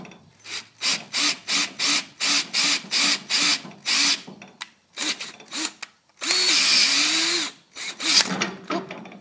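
A power drill runs in a rapid series of short bursts, each spin-up and stop repeated about a dozen times, then one longer sustained run, up close while fitting a valve on a portable hydraulic press.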